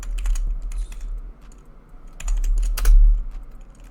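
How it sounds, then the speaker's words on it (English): Quick bursts of typing on a computer keyboard, close and clear, with short pauses between clusters of keystrokes and no voices. "I'm typing in VRC."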